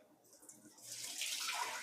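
Water pours into a mixing bowl as the first ingredient for Parmesan herb bread dough, a soft splash building into a steady, brighter rushing stream over about two seconds, alone with no voices.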